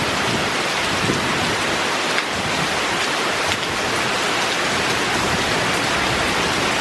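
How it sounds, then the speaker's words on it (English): Heavy rain pours steadily onto a porch and its surroundings during a springtime Southern storm, a dense, unbroken hiss with low thunder rumbling faintly underneath. "This crazy raining right now, and occasionally there's really loud thunder,"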